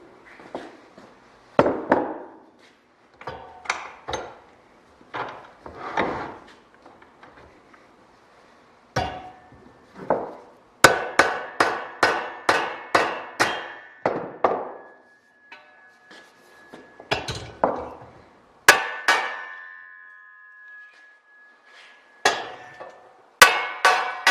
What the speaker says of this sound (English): right now I'm just going to hammer it a little bit.